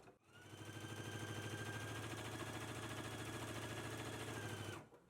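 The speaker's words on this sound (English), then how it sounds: "let's stitch the remaining of this opening closed" A sewing machine stitches a dress seam closed in one continuous, steady, buzzing run of about five seconds, close and even, starting and stopping abruptly.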